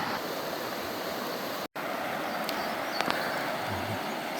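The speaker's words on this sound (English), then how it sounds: "there's a rushing creek right here" Rushing creek water at Montauk State Park: a steady, full hiss of flowing water fills the clip, broken by a very short gap partway through, with faint clicks over the constant rush.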